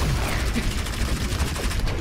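Rapid overlapping gunfire from a match of the Overwatch video game crackles in a dense, loud burst for about two seconds.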